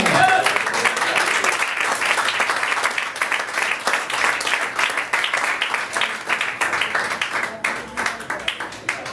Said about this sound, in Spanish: ¿Quiere dar un aplauso al Señor Jesucristo?